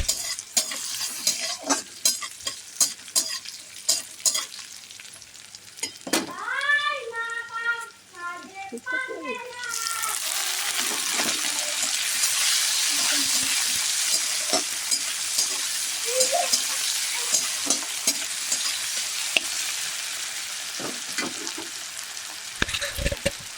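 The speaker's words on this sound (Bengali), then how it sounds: "পেঁয়াজটা এই রকম লাল করে ভেজে নেওয়ার পর টমেটো কুচি দিয়ে ভালো করে কষাবো।" Chopped tomato added to onions already fried red in a pan, stirred well: scraping and clicking at first, then a sudden loud, sustained close sizzle that fills the rest of the clip.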